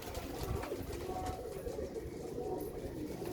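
Pigeons of an Iranian breed coo on a rooftop loft, a low murmuring cooing that runs steadily under a constant background hum, with no talk.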